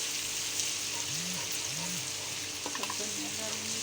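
Chopped green chillies fry in a pan, giving a steady close sizzle with faint tonal squeaks and a few crackles near the end.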